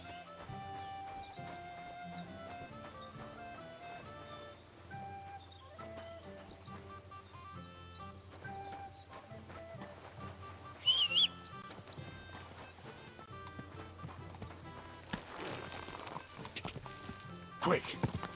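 Horse hooves clip-clop in a steady rhythm under a musical backdrop in the video game Kingdom Come: Deliverance II, with a brief whinny and occasional bird chirps; a voice speaks at times.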